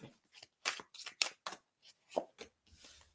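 Quick bursts of tarot card shuffling, several short crisp riffling and snapping sounds in an irregular rhythm, close and fairly quiet.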